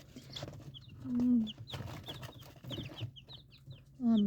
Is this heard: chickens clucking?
yes